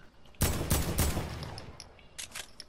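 Rapid bursts of gunfire in a shooter video game, three loud close shots in quick succession followed by fainter scattered shots, with no talking.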